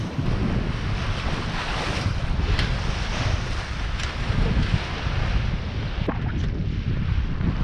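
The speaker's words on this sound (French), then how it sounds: "Il y a 18 nœuds de vent." Strong wind of about 18 knots roars across an open microphone at sea, mixed with rushing water and waves slapping a sailing boat, loud and unbroken throughout.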